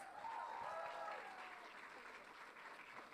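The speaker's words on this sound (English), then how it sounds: "Another big round of applause." Faint audience applause at a tech conference machine learning session, soft scattered clapping with a brief tonal whine near the start, fading slightly over three seconds.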